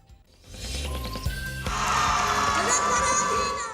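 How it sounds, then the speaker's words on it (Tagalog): A crowd at a Kapuso Mall Show in Balanga City, Bataan screams and cheers loudly for visiting TV stars, the shrill shouting swelling and holding over music and amplified sound. "Napuno ng hiyawan at sigawan ng Kapuso Mall Show sa Balanga City, Bataan dahil sa pagbisita ng Kapuso Stars."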